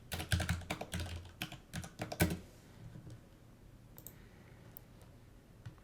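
Username and password being typed on a computer keyboard: a quick burst of close, crisp key clicks for about three seconds, then a few scattered faint taps over quiet room tone.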